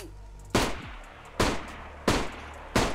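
Four heavy gunshots from the DayZ game ring out at a slow, uneven pace. Each is a loud, sharp crack that fades out quickly, with quiet gaps in between.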